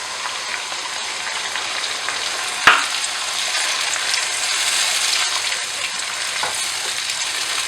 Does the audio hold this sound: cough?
no